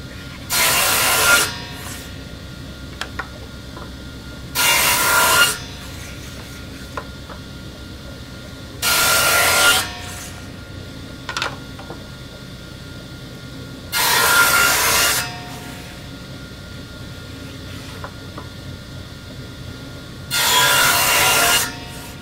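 A hand saw cuts wood while making a small box: five loud bursts of sawing strokes, each lasting about a second and a half, spaced several seconds apart, with quiet pauses between them.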